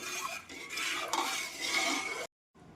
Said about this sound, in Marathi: अजून पातीला मी गॅसवर ठेवलेलं नाही हे सगळं खालीच मिक्स करायचं आहे